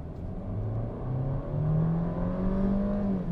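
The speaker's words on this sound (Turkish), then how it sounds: "6000'lerde vites değiştirecek şekilde gaza bastım" A Kia Stonic accelerates hard at full throttle, its engine note climbing steadily in pitch as revs rise inside the cabin, a smooth continuous drone with no talking.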